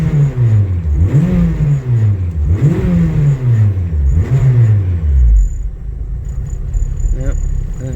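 A built turbocharged LSVTEC engine on E85 idles after a cold start in freezing weather, running rough with a loud rumble that rises and dips in repeated surges before settling to a lower, steadier idle.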